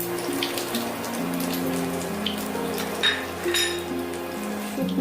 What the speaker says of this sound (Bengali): এরপর এই তেলের মধ্যে আমি ফোড়ন দিয়ে দিচ্ছি